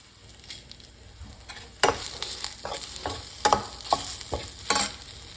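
Onion, dried red chillies, fennel and cumin frying in a pan for onion chutney, a steady sizzle with several louder stirring scrapes and spatula clatters midway through, close and alone.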